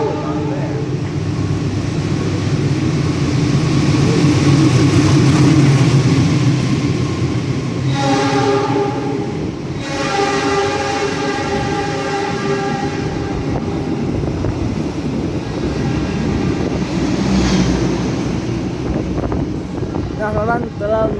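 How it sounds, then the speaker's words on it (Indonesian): KA Parahyangan train bound for Bandung passes straight through Cikarang station without stopping, with loud rolling wheel clatter and rushing wind, horn-like tonal bursts partway through, and a voice talking over the noise. "telah melintas langsung di stasiun Cikarang KA Parahyangan, tujuan stasiun Bandung"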